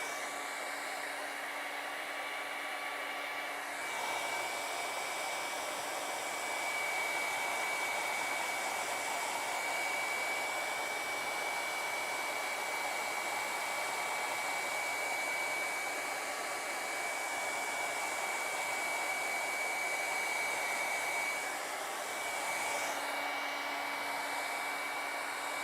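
A hair dryer runs steadily for about 25 seconds over colored pencil and Inktense artwork on Canson paper, a loud continuous whir with slight shifts in pitch as it moves, and no voices.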